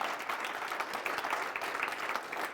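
An audience applauds steadily for a woman named Jenna, a dense, even patter of many hands clapping throughout with no voices breaking through.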